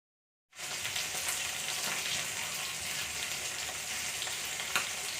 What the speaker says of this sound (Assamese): মাছকেইটা ফ্ৰাই কৰি লওঁ।